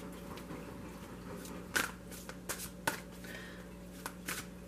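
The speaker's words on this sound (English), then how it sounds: "I'm going to start shuffling the other cards." Several soft, scattered riffles and taps of tarot cards being shuffled, fairly quiet and close, over a low steady background hum.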